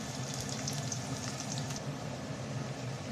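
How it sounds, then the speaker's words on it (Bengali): Chopped onion frying in ghee with garam masala, a soft, steady sizzle and bubbling hiss that continues evenly throughout, close but quiet, with no one talking. "পেঁয়াজ কুচিটা আমি লাল লাল করে ভেজে নেব।"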